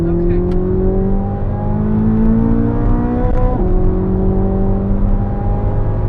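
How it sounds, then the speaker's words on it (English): A Corvette Z06 engine revs hard under acceleration on a mountain road, pitch climbing steadily, dropping sharply at an upshift and rising again, loud and close from inside the cabin. "I can't talk to you when the engine's going this hard."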